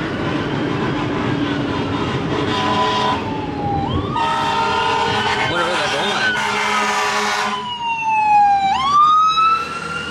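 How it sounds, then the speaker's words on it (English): Fire truck sirens after a tornado with 80 mph winds, wailing and sweeping up and down in pitch from a moderate distance over rumbling background noise, with a second siren rising near the end. "I hear fire trucks."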